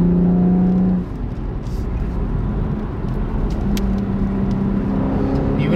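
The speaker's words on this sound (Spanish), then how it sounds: "el ruido del motor, el escape." A 2016 Chevrolet Camaro with a manual gearbox hums steadily from inside the cabin as it drives a curvy road, its engine and exhaust forming a low continuous drone beneath a brief stretch of speech.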